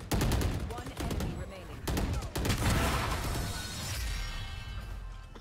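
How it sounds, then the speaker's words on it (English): Gunfire in Valorant shot through smoke during a round on B site, several loud bursts of rapid shots in the first half, then a quieter game din as the round ends. "He shot through smoke."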